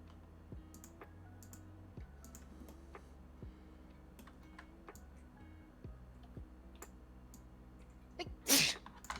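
A single sharp sneeze bursts out near the end, loud and close, after a quiet stretch of scattered soft clicks and keyboard ticks.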